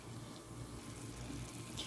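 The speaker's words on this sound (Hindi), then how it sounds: "साबूदाना बॉईल करने के लिए हमने पैन में पानी डाल दिया।" Water running steadily from a tap into a pan for boiling sago, a continuous close splashing stream, faint and alone.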